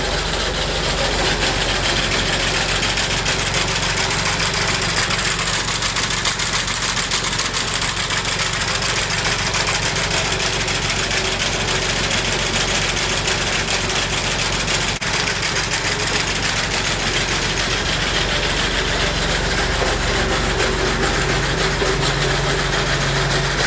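Massey Ferguson tractor running an antique finger bar mower, a constant broadband engine rumble mixed with dense mechanical clatter from the cutter, loud and unbroken for the whole stretch with no talking.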